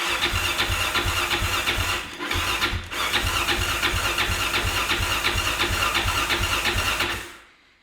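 A Yamaha Raptor ATV with old fuel, no choke and in cold weather cranks in a continuous, loud churning whir that briefly pauses twice and then cuts off without the engine catching.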